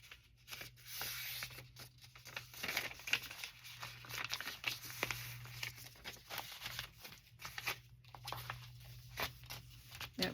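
Paper tags for needlework journals being folded and clipped to a page edge, close-up crinkling, rubbing and soft rustling handled continuously at low volume.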